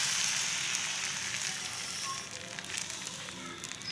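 Appam batter hisses and sizzles steadily in a hot appam pan as it is swirled, a close, continuous frying crackle that eases slightly partway through.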